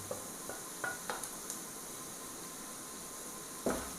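Sliced onions sautéing in a pan with coriander, chili and turmeric powders for a bilimbi curry, a soft steady sizzle broken by a few light clinks and scrapes of a spoon stirring, quiet and close.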